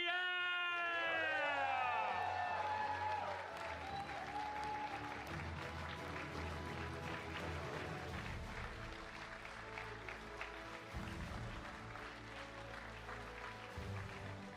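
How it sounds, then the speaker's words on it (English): Crowd applause and cheering at a championship ceremony, a loud, continuous roar of clapping and screams filling the hall, with an amplified announcer voice over the start. "please show your appreciation, clap your hands, scream as loud as you can for Illy Vepierre!"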